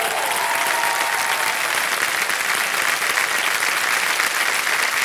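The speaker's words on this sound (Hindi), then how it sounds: "तालियां बज जाए जोरदार।" A studio audience on the KBC India TV quiz show breaks into loud, sustained applause, a thick continuous roar of clapping from a large crowd holding steady throughout.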